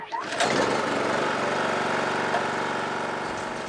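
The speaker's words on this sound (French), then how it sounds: "un groupe électrogène et un groupe électrogène, ça fait du bruit" A small generator engine drones steadily and loudly after a brief start, holding an even, rough hum with no break for the rest of the clip.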